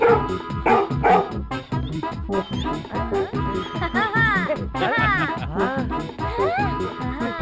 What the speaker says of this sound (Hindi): अरे ये कुत्ता